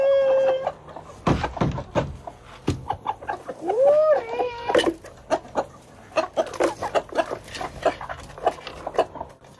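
Small chicks cheep in short high peeps among clucking poultry and a barking dog in a rural yard, the calls scattered and close against a busy, lively background.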